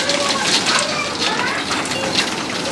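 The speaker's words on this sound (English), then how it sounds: "This is how the hail looks like from the top level of my house." Hail falls outside a house during a large Ottawa hailstorm, a dense continuous patter and hiss of ice striking surfaces, steady and fairly close with small brighter clicks scattered throughout.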